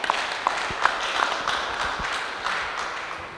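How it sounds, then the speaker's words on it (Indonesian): Scattered audience clapping at a regional election peace festival talk show, a thin, moderately quiet patter of hands with a few louder individual claps, continuing evenly. "kita kasih tepuk tangan terlebih dahulu"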